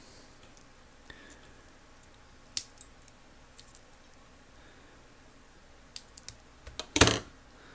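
Sharp tool trimming the plastic casing of a JJRC H20 drone battery, with a few scattered quiet snips and clicks and one louder cut near the end, no talking over it.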